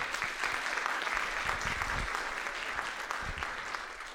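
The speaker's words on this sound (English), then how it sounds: "Let's give them a round of applause, too." An audience at a teen speaking event gives a round of applause, dense and continuous clapping from a crowd heard at a moderate distance for about four seconds.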